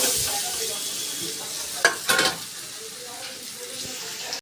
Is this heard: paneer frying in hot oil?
yes